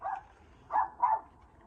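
Dogs barking nearby: three separate barks, one at the start and two close together later, with quiet gaps between.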